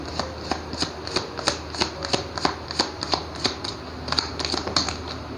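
Tarot cards being shuffled by hand, a quick series of crisp riffling snaps and slaps repeated in bursts, close and clear with no talk over them.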